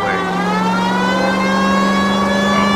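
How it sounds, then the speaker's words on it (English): A police car siren blares in the L.A. Noire video game, set in 1940s Los Angeles. It holds a loud, steady, slightly wavering tone throughout, layered over a droning car engine. "Put on the siren, and the motorists will move out the way."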